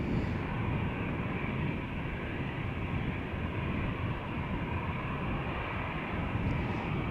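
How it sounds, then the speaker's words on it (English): An Airbus A321 takes off from a runway at Amsterdam Schiphol, a continuous loud jet engine roar that holds steady and dense throughout, heard alone with no talk. "A321 to Paris is now taking off from it."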